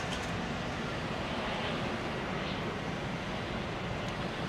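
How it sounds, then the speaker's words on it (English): A KLM Boeing 737-800 lands at Amsterdam Schiphol Airport in showery weather, heard as a broad, steady jet roar mixed with wind that holds for several seconds. "We have a 737-800 coming in."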